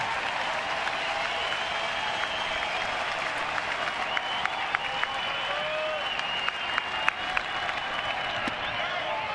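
A large baseball stadium crowd at a Chicago White Sox at Detroit Tigers game roars and claps in a sustained, distant-sounding wash, with a few sharper claps or shouts standing out near the end.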